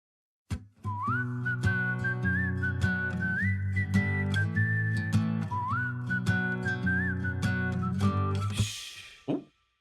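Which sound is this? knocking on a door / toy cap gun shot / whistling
whistling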